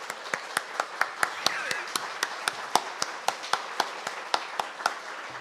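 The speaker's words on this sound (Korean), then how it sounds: "함께 격려하는 박수 한번 해주시겠어요?" A church congregation claps in steady unison, with crisp, evenly spaced claps about four per second carrying on throughout.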